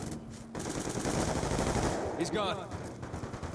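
Rapid automatic gunfire in Call of Duty on the Nuketown map, a dense continuous rattle of shots up close, with a player's voice briefly heard over it.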